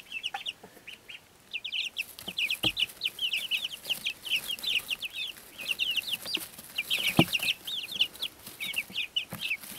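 Week-and-a-half-old chicks kept indoors, peeping in rapid high-pitched chirps that come thick and continuous, close by, with occasional soft thumps and rustling beneath.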